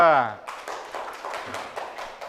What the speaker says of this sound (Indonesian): Silakan kita beri tepuk tangan untuk kelompok 2.